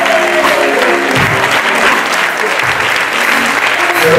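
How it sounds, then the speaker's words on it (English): A community assembly crowd at a gospel event claps loudly for veteran Leroy Archibald, steady dense applause with a low murmur of voices underneath. "Give him a round of applause"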